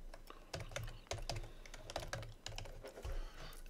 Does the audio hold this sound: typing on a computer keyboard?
yes